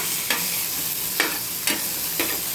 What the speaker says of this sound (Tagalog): At nilagay ko na rin yung kamatis at halu-haluin natin para maluto yung ating sibuyas, bawang, kamatis guys.